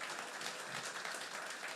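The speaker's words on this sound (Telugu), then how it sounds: "ఒక్కసారి మాకు మీరే క్లాప్స్ ఇచ్చుకోండి గట్టిగా." A full hall audience at a Telugu training program applauds, a steady dense wash of many hands clapping throughout, moderately distant and fairly quiet, with no talk over it.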